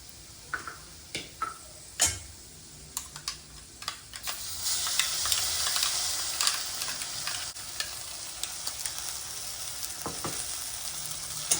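Ground masala paste sizzles and fries in a pan for paneer masala, a steady close hiss with scattered spoon clicks and stirring scrapes against the pan, no voices.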